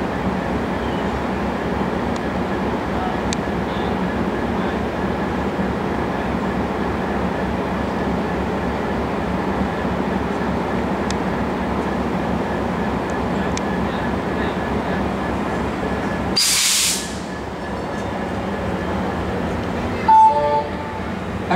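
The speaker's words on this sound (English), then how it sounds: "we already got another dart coming. Got a dart meet up." DART light rail train at Dallas Union Station, a steady rumbling roll of rail cars continuing for the whole stretch, with a brief louder burst near the end, no talk.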